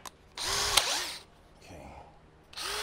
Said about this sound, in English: let me get the right drill bit here